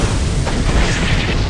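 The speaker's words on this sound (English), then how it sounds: "He's got the artillery." Artillery fire in a shooting video game: a loud, continuous rumbling boom filling the short clip.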